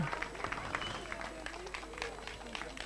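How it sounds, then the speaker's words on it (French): Crowd applause at an outdoor podium ceremony for the NSK 2024 race in Aunay-les-Bois, a steady patter of many hands clapping at moderate distance, with voices and crowd noise mixed in. "Sous les applaudissements chaleureux de toutes et tous"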